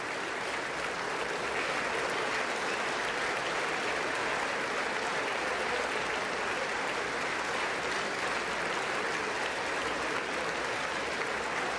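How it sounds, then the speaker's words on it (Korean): Members of the US Congress applaud in the chamber before a speech by the South Korean president, a sustained, even roar of clapping from a large crowd that continues for about twelve seconds without speech. "연설에 앞서 상하원 의원들의 박수 소리가 좀 더 커지고 있습니다."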